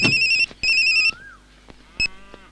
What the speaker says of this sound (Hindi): भाई, डीसीपी का फोन।